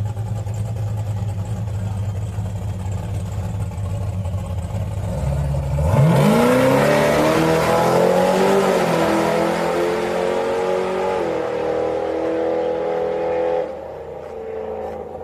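ProCharger-supercharged drag race car accelerating hard down the strip at a Houston test-and-tune, its engine note climbing steadily and loudly over several seconds after a low rumble at the start, then cutting off near the end.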